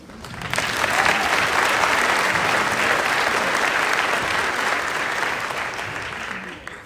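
Crowd at an Army infantry brigade graduation ceremony applauds the soldiers, a thick, sustained burst of clapping that swells quickly, holds strong for several seconds, then tapers off.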